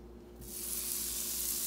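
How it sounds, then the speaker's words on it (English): Ground chuck burger patties hit a hot grill, and a soft hiss swells into a steady, fairly quiet sizzle that continues on its own. "I always throw them on the grill."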